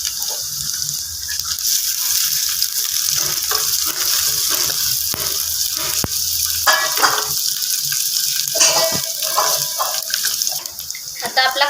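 Chopped onion and finely chopped garlic sizzle and hiss in hot oil for a homemade kids' tiffin shev bhaji, a loud, steady crackle throughout with someone talking over it.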